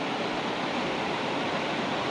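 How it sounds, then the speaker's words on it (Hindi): A river rushing past in a steady, broadband roar of flowing water, loud and continuous throughout with no voices. "इधर तो खैर नदी बह ही रही है"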